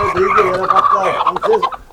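Chickens at a tiger-breed poultry farm cluck and call close by, a busy overlapping flock sound filling the short moment.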